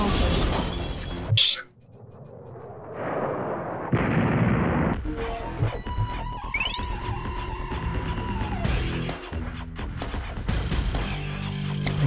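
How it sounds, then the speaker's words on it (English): Explosions and crashing blasts as silos are destroyed in the Command & Conquer: Tiberian Dawn Nod campaign, loud and dense, with bursts and debris over continuous game battle noise. "Let's destroy their silos."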